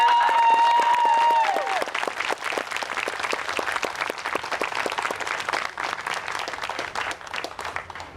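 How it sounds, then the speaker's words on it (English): Outdoors at a Black Lives Matter march, a crowd breaks into sustained applause after a brief high tone fades in the opening second, the clapping continuing steadily and evenly for several more seconds. "So can we give them a round of applause for taking us?"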